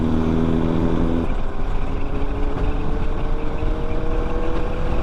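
A Kawasaki Z800 inline-four motorcycle's exhaust drones steadily on a morning ride, a loud continuous engine roar with rushing road and wind noise and no talking.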